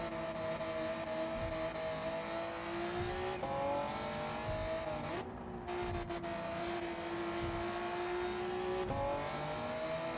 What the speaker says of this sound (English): It's a Honda, you can give it the beans. It'll go all the way through the rev range.